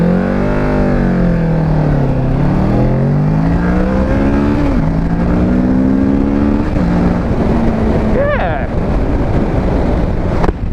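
A 2017 Kawasaki Ninja 650 accelerates hard from a standstill to 60, its engine note climbing through the gears with brief dips between shifts. Heavy wind rush masks the sound, and the engine stays loud and close throughout.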